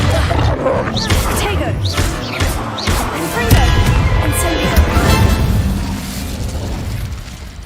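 Confringo and Incendio spells cast in Hogwarts Legacy, a run of booming blasts and crackling impact bursts with whooshes, loud and close, overlapping one another.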